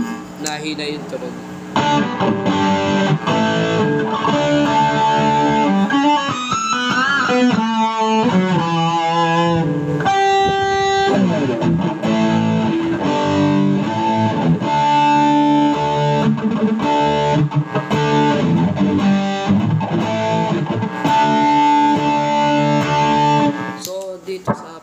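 Distorted electric guitar through a Jcraft LTX Drive overdrive pedal, playing a dense riff of chords and single notes with brief pauses, loud and saturated for about twenty-five seconds.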